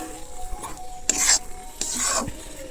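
Pointed gourd (kakrol) filling is scraped and stirred around a pan as it dries, with a few distinct rasping strokes and a faint sizzle underneath, close and fairly quiet.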